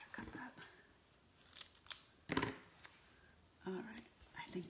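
Scissors snip through paper while a Christmas gift box is trimmed, a few short crisp cuts in bursts with pauses between, close and moderately loud, with faint handling noise in the gaps.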